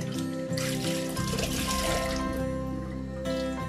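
Water from washed spinach trickles and splashes steadily through a strainer, a continuous close-up dribble with no pauses.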